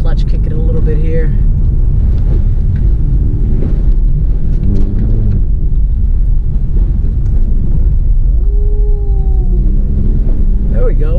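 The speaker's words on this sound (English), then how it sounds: "I can maybe clutch kick it a little bit here" A Volkswagen MK7 GTI engine revs during a clutch kick on a winter road, a loud, continuous low rumble with a rising and falling rev sweep near the end, heard from inside the car under wind buffeting.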